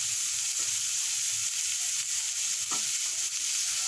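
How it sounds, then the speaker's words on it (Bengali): Ginger paste fries in a pan with an even hiss of hot oil throughout and occasional faint clicks of stirring, one slightly louder scrape near the end. No one speaks. "এবার দিচ্ছি আদা বাটা"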